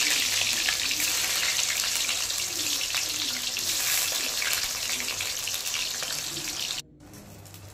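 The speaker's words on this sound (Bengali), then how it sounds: "একে একে সমস্ত কটা টুকরো আমি তেলে দিয়ে দেবো আর লালচে করে ভেজে তুলে নেব" Eggplant pieces sizzle in hot oil for a Shivratri offering, a dense, steady crackling hiss that holds loud and even before dropping abruptly to a quieter sizzle near the end.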